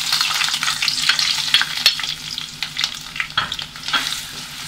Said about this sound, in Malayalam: ഇപ്പം നമ്മുടെ എണ്ണ ചൂടായിട്ടുണ്ട്, ഇതിലേക്ക് അരിഞ്ഞ് വെച്ചേക്കണ എല്ലാം ചേർത്ത് കൊടുക്കാം.